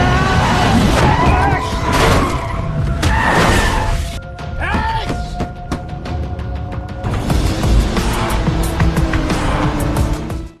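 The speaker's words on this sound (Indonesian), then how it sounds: "Mobil Bos Jo menabrak mobil yang terparkir" Car chase scene from the 2022 film Special Delivery in which a car slams into a parked car: loud roaring engines, tire squeals and crashing impacts layered under a dramatic film score.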